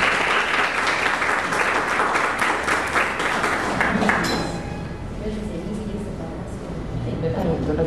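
Applause from an audience welcoming a speaker, a thick steady clatter of many hands for about four seconds that then fades into a softer murmur of room noise and voices.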